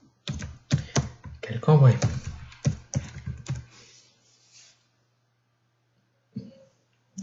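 Quick bursts of typing on a computer keyboard while entering a search, clustered clicky keystrokes with a few isolated taps later, mixed with a person talking nearby.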